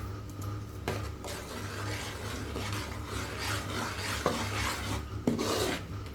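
Soaked, ground rice flour dough for arisalu is worked by hand in a bowl, giving a continuous close rubbing, rasping scrape with a few sharp knocks against the vessel.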